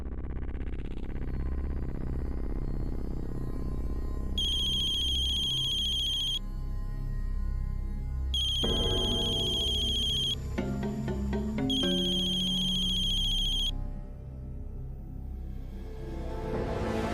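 A phone ringtone rings loudly in repeated bursts of a bright electronic melody over a steady low hum, with no talking.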